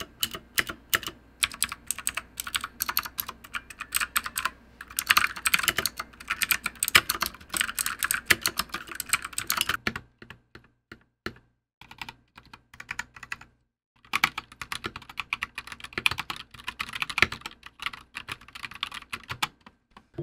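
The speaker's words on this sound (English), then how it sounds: "let's have a listen to these Gateron Reds and see just how much quieter they are" Typing on an Anne Pro 2 wireless 60% mechanical keyboard with Gateron Red switches, a steady patter of close, soft clacks in quick bursts, with a brief pause midway before the keystrokes resume.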